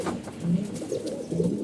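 Racing pigeons coo close by in soft, low, repeated burbling phrases that rise and fall over a quiet background.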